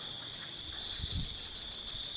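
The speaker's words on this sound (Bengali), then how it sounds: "ঝিঝি পোকা ডাকছে," Crickets chirp at night in a steady rapid pulsing trill, close and continuous, with faint low rustling beneath.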